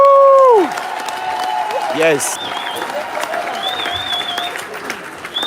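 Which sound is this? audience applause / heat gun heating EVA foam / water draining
audience applause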